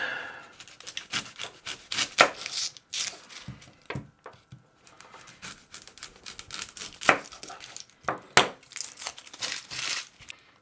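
Stiff Stuttgarter onion chopped on a board with a knife, giving irregular crisp crunching cuts, some in quick clusters and others spaced apart, close and moderately loud with no talking.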